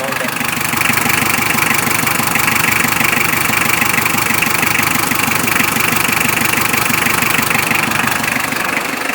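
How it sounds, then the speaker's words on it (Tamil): A 1995 HM Contessa vintage diesel car idles close by with a loud, steady, knocking diesel clatter that runs throughout the whole stretch. "அந்த டீசல் காருக்கான ஒரு பியூரான ஒரு சவுண்டு, அந்த விண்டேஜ் காருக்கான சவுண்டு."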